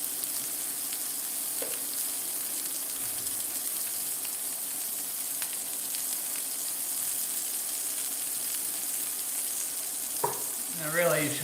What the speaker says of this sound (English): let's fry that up.